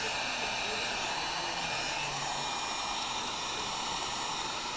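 Hot air rework station blowing heated air over a circuit board, a steady, loud breathy whoosh like a hair dryer that holds constant with no breaks.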